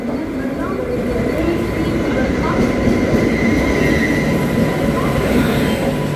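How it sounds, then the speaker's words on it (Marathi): A Tejas Express hauled by a WAP-7 electric locomotive rolls in, a loud, steady rumble of wheels and carriages with faint squeals, heard up close with a voice talking over it. "हे बघा फायनली तेजस एक्सप्रेस"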